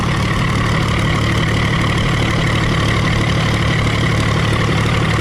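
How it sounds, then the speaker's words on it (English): A Case 930 tractor engine idles on its first start in 14 years, a loud, steady, even rumble that continues unbroken throughout with no voices. "That's idle speed right there."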